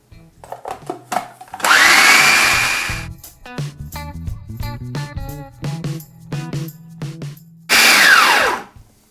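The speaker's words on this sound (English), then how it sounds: "all we do is put all of this into our food processor bowl" Lentil burger mixture whirring in a food processor bowl for a vegan recipe, two loud motor bursts separated by clattering, knocking pauses and shorter pulses.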